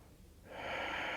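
A person breathes through a yoga pose: one long, soft breath that swells and holds, close and unhurried, with no talking.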